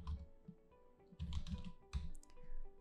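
Quiet keystrokes on a computer keyboard, a short irregular burst of clicks and taps, close and alone with no talking.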